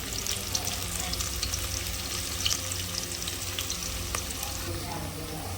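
Onions and green chillies fry in oil in a pan with turmeric just added, giving a steady, close sizzle with faint stirring crackles throughout and no talking.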